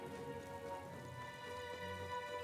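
Rain in the video game Metaphor: ReFantazio, a faint steady patter of raindrops under a soft tonal game background hum.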